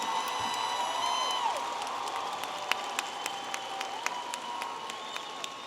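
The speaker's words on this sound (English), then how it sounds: "a round of applause for the baccalaureate graduates" Applause and scattered cheers rise from a large crowd at a university spring commencement ceremony, honoring business school graduates. The sound is moderately distant and fades slightly, with sharp whoops and whistles popping out over the steady clapping.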